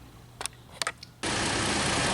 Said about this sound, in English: New pulley is in. Engine runs great.